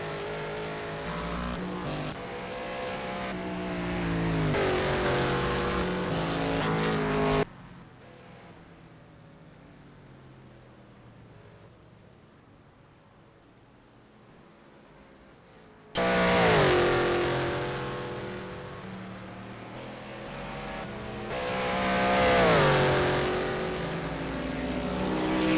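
Race car engines from a racing simulator game at the Sepang circuit roar in long rising and falling passes, loud at first, then a quiet stretch of low hum before the screaming engine noise returns strongly.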